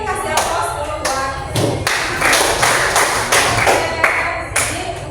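Classroom applause: a small group clapping by hand close by, with uneven bursts and sharp slaps over several seconds.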